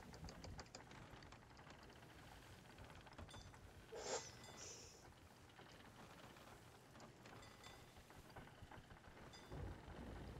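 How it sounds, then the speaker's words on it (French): A video game thunderstorm at sea aboard a ship: steady rain hisses throughout, with a soft rumble of thunder and scattered clicking under a quiet, continuous wash of noise. "Je déteste l'orage."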